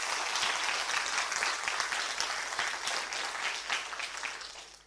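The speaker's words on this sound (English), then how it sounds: "Please give them a round of applause." An audience at an arts residency conference applauds a panel, with a steady wash of clapping that holds at moderate loudness and slowly tapers.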